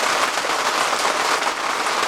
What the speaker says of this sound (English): You can probably hear the rain beating down now though.